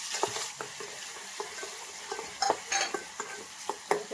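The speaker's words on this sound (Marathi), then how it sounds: "चला तर आपलं तेल गरम झालेलं आहे त्यात टाकायची आपली आलं मिरची लसणाची पेस्ट" Ginger, green chili and garlic paste sizzles in hot oil as a spoon stirs it, steady frying hiss broken by repeated soft scraping strokes against the pan, close and moderately quiet.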